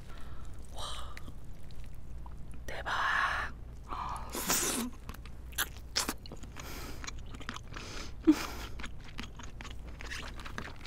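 Close, wet chewing and crunchy bites of Hanasaki king crab legs dipped in crab roe, with irregular bursts of crackling shell and soft mouth sounds, plus a few sharp intakes of breath.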